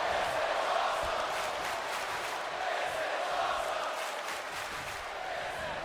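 Wrestling arena crowd cheering in the video game WWE 2K24, set in Glasgow, a dense steady roar of many voices with whoops and shouts that holds loud and unbroken throughout.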